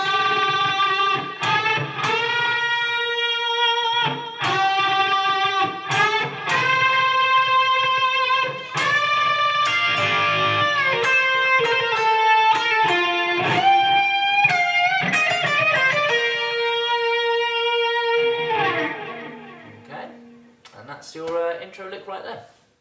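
Electric guitar plays an intro lick slowly, a run of clean, distinct picked notes with slides, up close and alone, ending in a few softer notes.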